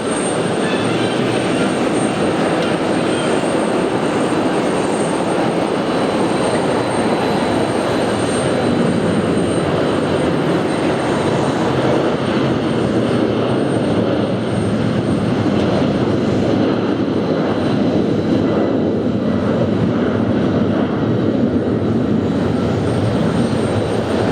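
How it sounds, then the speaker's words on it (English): A jet airliner's takeoff roll at JFK airport: a loud, steady broadband engine roar that holds for the whole stretch, growing slightly rougher near the end, with no talking. "as soon as I shut off the camera, they start the takeoff roll."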